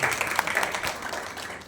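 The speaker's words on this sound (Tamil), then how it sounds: "அவருக்கு நீங்க ஒரு ஸ்பெஷல் கைத்தட்டல் கொடுக்கலாம்" An audience at a community gathering gives a special round of applause for a speaker, a dense, steady patter of many hands clapping together that stays even throughout.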